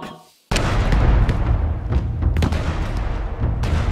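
Cannon fire in the stealth game Shadow Tactics: a sudden loud boom breaks in after near silence, then a dense rumbling barrage continues with repeated sharp blasts and crackling reports throughout.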